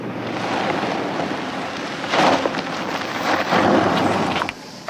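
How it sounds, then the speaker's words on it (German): Thunder rumbling during a thunderstorm, broad and loud over steady rain and wind noise, with two heavier swells of rumble in the middle. "Verdammt, haben Sie den Donner erwischt."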